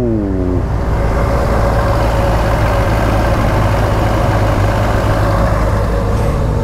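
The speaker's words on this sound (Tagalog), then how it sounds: "hear that engine" A QJ SRK 600 motorcycle engine runs loud and close in a steady, continuous rumbling idle, and a brief rising tone fades at the start.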